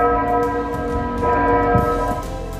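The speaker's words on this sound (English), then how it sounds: "Bells rang out over empty churches across Ireland, sending out messages of hope." Church bells ring out over empty churches in Ireland on St. Patrick's Day, a loud, continuous resonant peal with overlapping tones and no talking.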